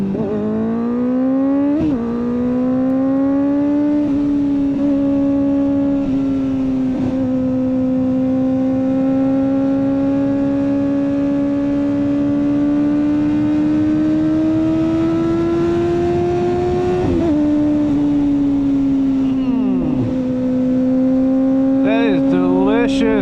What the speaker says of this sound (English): I wish this bike had a tune, but y'all, it sounds so good even without it